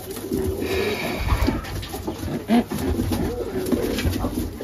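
Racing pigeons selected for a young-bird race coo steadily in a loft, a continuous low rumbling murmur of several birds with soft wing rustles and one louder coo near the middle.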